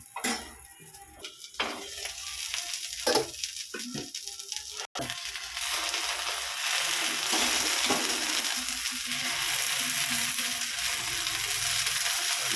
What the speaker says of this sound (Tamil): அதை தான் ஊற்றி தோசை சுட போகிறோம்.